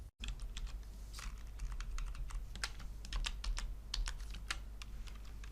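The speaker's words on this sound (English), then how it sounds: "I select this, press space to add it, and then Enter to edit it." Keys on a computer keyboard are pressed in a quick irregular run of distinct taps, close and fairly quiet over a low steady hum, with no talking.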